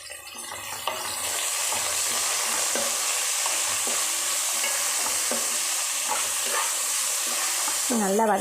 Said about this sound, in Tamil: எண்ணெயிலே கொஞ்சம் நல்லா வதங்கட்டும், அப்போ தான் டேஸ்ட்டாக இருக்கும்.